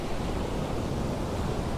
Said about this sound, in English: Ocean, not too rough